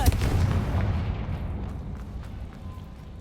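Confringo blasting spell in Hogwarts Legacy: a loud booming explosion right at the start that rumbles and slowly fades over a few seconds.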